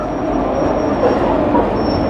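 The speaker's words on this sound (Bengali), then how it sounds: "ট্রেন আমাদের সঠিক সময় এসে পৌঁছলো বর্ধমান স্টেশনে আট নম্বর প্ল্যাটফর্মে" A local train pulling into platform eight at Bardhaman station gives a steady, loud rumble of rolling wagons and rail noise, with a faint high whine running through it and no voices.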